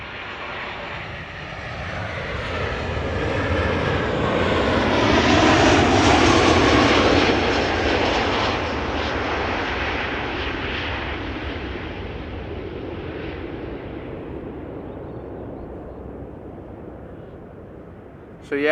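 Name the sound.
Boeing 777 or Airbus A330 arriving at Amsterdam Schiphol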